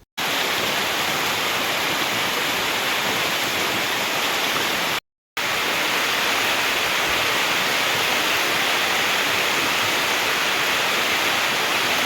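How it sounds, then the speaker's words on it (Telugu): A waterfall heard from below roars as a loud, constant broadband rush of falling water, unbroken apart from a brief cut mid-way, with no voices over it. "వాటర్ సౌండ్ అయితే చాలా గట్టిగా వినిపిస్తుంది."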